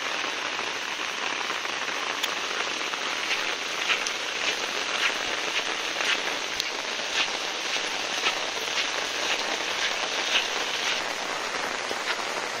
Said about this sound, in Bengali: বৃষ্টি হচ্ছে, প্রচুর বৃষ্টি হচ্ছে